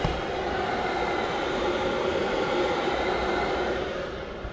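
Webasto diesel heater fan in a Ram Promaster camper van running on high ventilation, a steady broadband blowing whoosh that holds evenly close by, with no talk, and eases slightly at the end.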